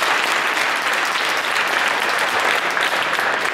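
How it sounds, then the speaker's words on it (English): A theater audience applauds warmly at a Christmas Carol stage show in Eugene, an even, full round of clapping that holds steady from start to finish. "So please round of applause for Lord Liebrick."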